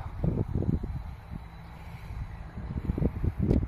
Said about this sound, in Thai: ลมพัดเย็นสบายมากนะครับ